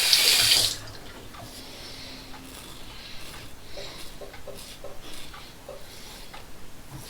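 Tap water running into a sink to rinse a razor during a wet shave with a 1964 Gillette Slimline, a loud brief gush that drops to a soft trickle and light splashing.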